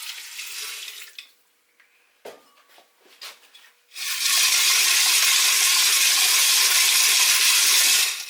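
After a few clinks and taps, distilled water pours in a loud, steady rushing stream over silver crystals being rinsed, with a short splash at the start and the flow holding to the end.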